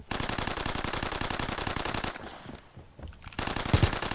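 Rapid machine gun fire in a Call of Duty WWII zombie-style Dunkirk match, loud and continuous bursts for about two seconds, a brief lull with faint background noise, then firing resumes with a couple of heavier thuds.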